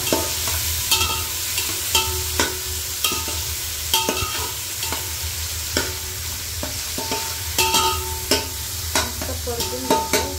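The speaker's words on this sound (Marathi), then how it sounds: "टोमॅटो आधी टाकले, कारण पूर्ण मेल्ट झाले पाहिजे तेलामध्ये. मस्त परतून घ्यायचं आणि थोडंसं विरघळू द्यायचं त्याला." Tomatoes sauté in hot oil in a pan for prawn biryani, with a steady sizzle under repeated sharp clinks and scrapes of a spoon stirring, close and continuous with no talking.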